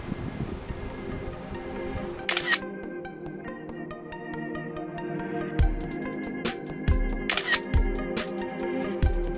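A single-lens reflex camera shutter fires a few separate times at slow exposures on a driftwood beach at Hunting Island, South Carolina. Each release is a crisp, close mechanical click over a steady hiss of waves.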